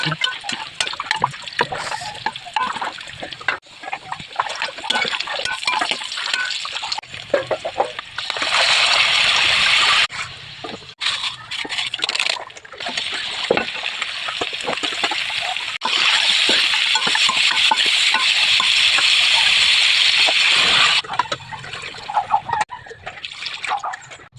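A pot of tanghon soup with vegetables and meat boils, bubbling and sloshing in bursts of bright, hissing simmer noise that swell and fade over about twenty seconds, close up, with occasional faint voice.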